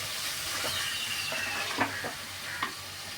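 Ginger garlic paste sautéing in a pan for chicken biryani: a continuous soft sizzle with a few brief scraping stirs, close and fairly quiet, no voices.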